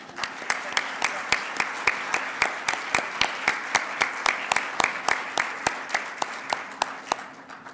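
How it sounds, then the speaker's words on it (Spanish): An audience at a seminar welcomes a speaker with applause. Loud, regular clapping stands out with an almost metronomic beat over a softer bed of crowd clapping, steady throughout. "Les pido que la recibamos con un aplauso."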